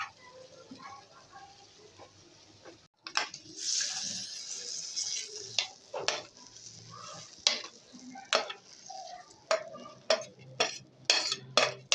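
Lobia aloo chaat, a chaat of black-eyed peas and potato with onion, being scooped from a pan into a serving dish: a quiet stretch, then repeated close scrapes and clinks of a spoon against metal and crockery in an uneven rhythm.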